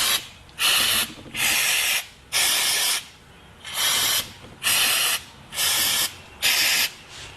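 Brake cleaner sprayed into wheel hub bolt holes in eight sharp hissing bursts of about half a second each, evenly spaced with short pauses between, close and loud with no talking.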